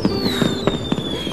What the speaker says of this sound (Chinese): 你看烟花好漂亮啊